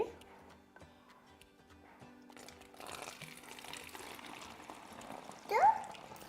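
Homemade household cleaning liquid pours into a container in a soft, steady stream, with quiet voices talking nearby.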